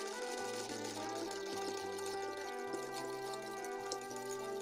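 A sewing machine topstitches along a basted line on a jacket pocket opening for a glamorous winter coat, running in a steady continuous hum with motor tones and a few brief pauses, close and alone.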